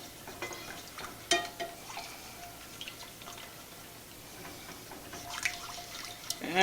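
Fettuccine Alfredo sauce is stirred in a pot, with quiet, close wet swirling and occasional soft clinks and drips at an unhurried pace.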